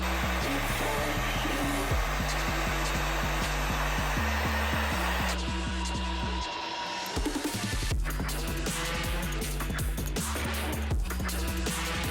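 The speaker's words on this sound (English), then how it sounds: "we're going to warm it up in the hairdryer, just to warm up the adhesive on the back" A small travel hair dryer blows steadily and loudly close by, warming badge adhesive on a Toyota Yaris, with a brief dip in airflow partway through before it resumes at full strength.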